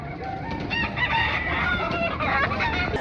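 A gamecock crows loudly and close by, one drawn-out cock-a-doodle-doo with some clucking around it.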